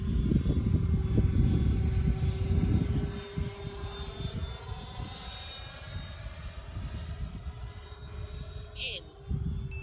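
Freewing Avanti S 80mm EDF RC jet making a low pass with landing gear and flaps down, a loud, steady ducted-fan whine and roar that eases slightly after a few seconds as it passes, with a voice talking over it.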